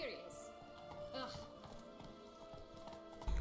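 Horse hooves clip-clopping in The Witcher 3, a steady patter of light taps running under game music and voices talking throughout.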